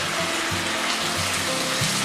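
Chicken chilli stir-fried with Schezwan sauce and spring onion, a dense steady sizzle with low rhythmic tossing and stirring sounds, close up and without talk.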